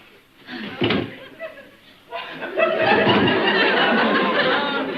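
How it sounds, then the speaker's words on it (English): Door knob rattled and a door tugged as someone tries a stuck door, a few knocks and thumps near the start, then a dense burst of laughter and voices from a studio audience in a sitcom. "What's the matter with the door here? It's stuck."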